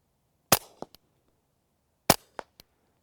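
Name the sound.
suppressed rimfire pistol shots, Rugged Oculus 22 silencer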